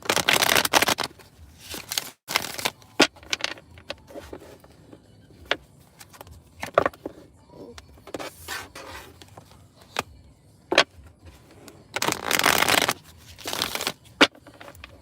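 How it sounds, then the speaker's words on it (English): Tarot cards are shuffled by hand close up, with bursts of crisp riffling and rubbing alternating with short quiet gaps, loud and irregular in rhythm. "I'm going to shuffle these cards up"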